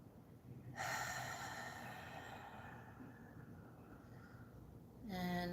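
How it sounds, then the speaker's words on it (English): A deep breath is drawn in sharply, a strong airy inhale near the start lasting several seconds, then another quick breath at the end, close and fairly quiet, during a guided healing prayer. "And take a deep breath."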